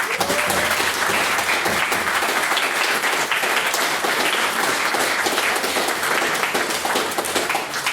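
A debate audience claps steadily for a maiden speech, a dense, even wall of applause lasting the whole stretch with little else over it.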